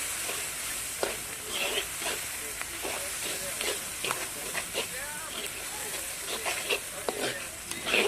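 Prawns fry and sizzle in a clay pan over a clay stove, with a steady hiss broken by repeated scraping and stirring clatter, close and moderately loud.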